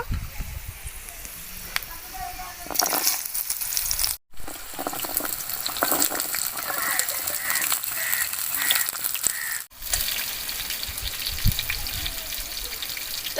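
Chopped hog plums (amra) tossed into hot mustard oil, frying with a steady loud sizzle that runs throughout, broken by two brief dips, close up and with no talk.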